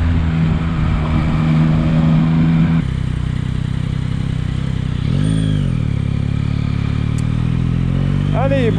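A Yamaha MT-09 motorcycle engine runs steadily at close range, a continuous rumble with a brief swell near the middle, while someone speaks over it.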